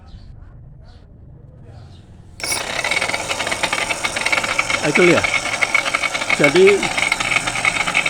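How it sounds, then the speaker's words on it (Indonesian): A dough mixer's motor switches on abruptly into a loud, harsh grinding rattle of metal on metal from its gearbox, running steadily while someone speaks briefly over it. "ini suara berisiknya karena gearbox ini kontak besi dengan besi"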